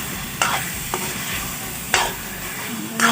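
A spatula stirs a thick pumpkin ladoo mixture in a pan over a low gas flame, giving about four sharp scrapes at irregular intervals over a steady low sizzle, close and clear with no talking.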